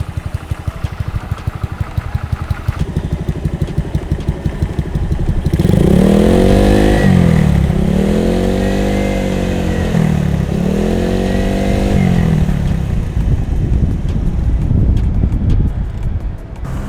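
A motorcycle fitted with an AHM standard racing exhaust, heard from behind, idles with a steady low rumble, then revs up three times in rising and falling swells before settling back, loud and close with wind noise.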